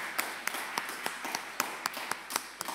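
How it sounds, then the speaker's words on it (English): Church congregation at a traditional worship service applauding the choir, sparse separate claps forming an uneven, thin patter of roughly a dozen sharp hits. "Yes, give them the clap."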